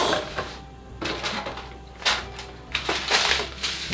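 A Hill Pump Mk4 hand pump's well-packed box is opened and rummaged through, giving close, loud crinkling, rustling and scraping bursts in an irregular rhythm with no talk.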